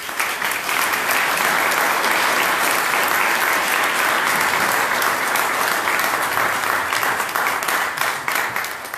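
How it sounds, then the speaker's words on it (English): An audience at a community center's grand opening bursts into loud, sustained applause, a dense wash of clapping hands filling several seconds at close range. "Give yourself a round of applause."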